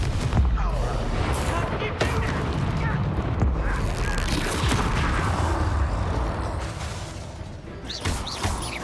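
Rapid spell blasts from Confringo and Bombarda in the Hogwarts Legacy video game crash and boom almost continuously, dense explosive bursts layered over game combat noise with voices shouting through the action.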